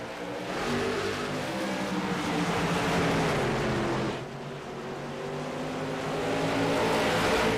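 A pack of race cars at South Boston roars as it accelerates away on a restart, engines loud and sustained, dipping briefly before building again.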